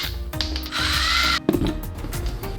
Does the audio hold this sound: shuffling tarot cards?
no